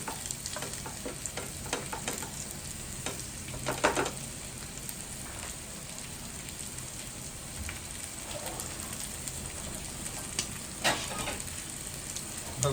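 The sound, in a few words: stuffed okra (bharli bhendi) stir-frying in a pan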